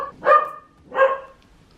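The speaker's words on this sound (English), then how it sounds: "slight distraction with the dogs" Two dogs' barks, close and fairly loud, two distinct woofs spaced under a second apart inside a house.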